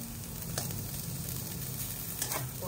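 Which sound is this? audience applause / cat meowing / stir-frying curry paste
stir-frying curry paste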